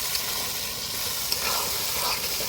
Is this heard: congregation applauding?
no